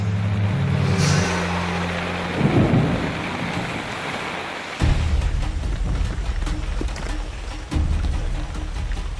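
Heavy rain pours steadily in the Amazon rainforest while deep thunder rumbles and rolls through, with a louder crack midway and continued downpour afterward.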